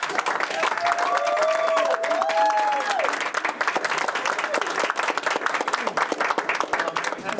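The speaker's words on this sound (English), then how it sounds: "And let's give them all a round of applause." Audience applause after a Shakespeare and sonnets performance at a TAPA 2019 show, dense steady clapping filling the whole stretch, with a few voices and faint tonal sounds rising briefly above it.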